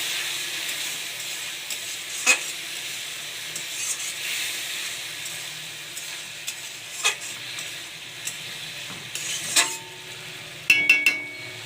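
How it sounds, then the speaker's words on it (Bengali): Spice masala sautéing with boiled taro in a pan: a steady close sizzle and hiss, broken by occasional sharp scrapes and knocks of a spatula stirring. "এবার মশলাটাকে দিয়ে একটু কষিয়ে নেব।"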